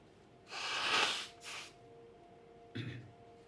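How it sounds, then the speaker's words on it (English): A couple of loud, breathy nasal blasts close by, the first long and forceful, a shorter second, then a brief snort after a pause. "Okay, I'm gonna blow my nose."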